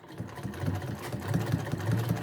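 An old sewing machine quilting straight stitches on a table runner, a soft rapid mechanical whir with a steady pulsing beat, close and continuous.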